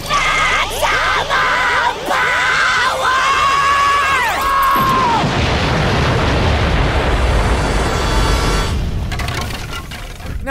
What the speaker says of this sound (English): intentionally causing the Krusty Krab to explode using a laser could land SpongeBob with a grueling sentenc